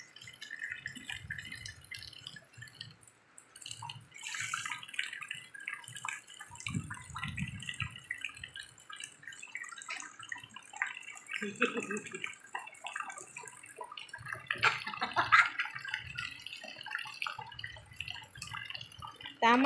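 Rain drips and water runs in a rainy neighbourhood after a storm, soft irregular splashes and trickles close by, with occasional children's voices and louder splashes in the background.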